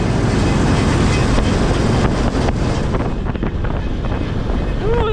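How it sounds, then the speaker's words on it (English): Steady, loud rush of cold air blowing from the cleaning fan of a 40-year-old corn combine harvester in the rain, a dense wind-like roar with no break from start to end, close to the microphone. "that's a cold breeze coming out of that fan"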